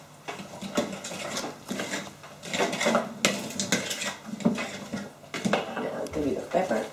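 A utensil clinks and scrapes against a bowl in irregular bursts while turkey mince is mixed with egg whites and onion in a home kitchen, with someone talking over the clatter.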